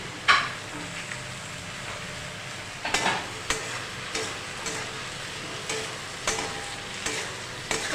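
Brinjal and potato pieces fried in oil with onion, a low background sizzle punctuated by a spatula scraping and knocking against the pan every second or so, close and clear with no speech.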